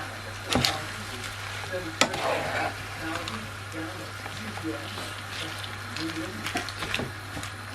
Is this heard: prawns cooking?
yes